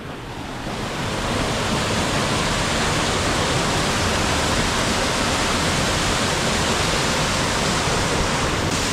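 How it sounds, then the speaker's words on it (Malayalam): A small waterfall in Oman pours in a steady, loud, unbroken rush of water that fills the whole stretch without pause or talk. "അവിടെ ഒരു ചെറിയ വെള്ളച്ചാട്ടം ഉണ്ട് കേട്ടോ ആ വെള്ളച്ചാട്ടം ഒന്ന് കണ്ടിട്ട് വരാം"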